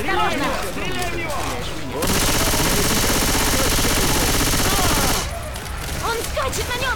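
A video game fight with sustained automatic gunfire aimed at an enemy, a dense, loud rattle running for about three seconds between stretches of shouting voices.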